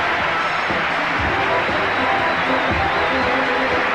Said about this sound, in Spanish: Aplausos para Croacia.